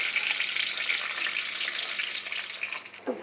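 Onions fry in mustard oil with cardamom and cinnamon, giving a steady, close crackling sizzle that holds evenly, with a light clink of stirring near the end and no speech.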